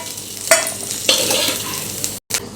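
Fried chicken is scooped out of a hot kadhai onto a plate against a constant sizzle, with two sharp spatula scrapes near the start and a brief dropout just before the end.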